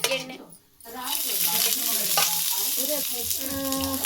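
Onions frying in oil in a pan for a homestyle avare bele saaru, a steady loud crackling sizzle that swells after a brief quiet opening, with stirring scrapes and faint tonal clinks mixed in, no speech.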